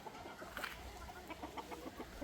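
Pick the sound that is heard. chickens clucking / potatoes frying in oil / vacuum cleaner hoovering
chickens clucking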